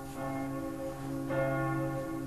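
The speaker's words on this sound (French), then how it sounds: "les cloches du campanile sonnent" Church bells of the campanile in Venice ring with sustained, overlapping metallic tones, a fresh strike swelling midway through, steady and moderately distant.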